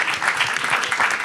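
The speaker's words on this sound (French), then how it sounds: "vous avez applaudi" An audience at a live debate on artificial intelligence applauds in a dense, steady patter of many hands clapping throughout, with no cheering or voices standing out.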